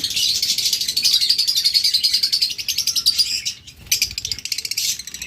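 A pair of lovebirds or budgerigars in a cage, chirping in rapid, repeated high tweets close by, with the stream of calls barely pausing, one short break about two-thirds through, and no talking over it.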